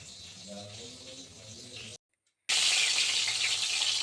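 Pieces of pointed gourd (potol) frying in a pan give a steady sizzle and hiss. The sound drops out briefly, then returns louder and brighter, with faint background noise before the break.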